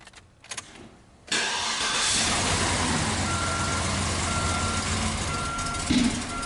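A 2007 Cadillac DTS cranks and catches, settling into a loud, close idle with a few irregular pops and bumps, and a brief thump near the end.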